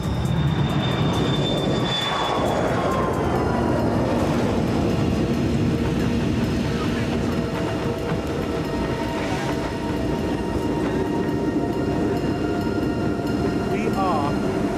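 Steady airliner cabin roar during cruise at 30,000 feet, a continuous broadband engine and air rush with faint tonal hums, while a voice talks briefly near the start.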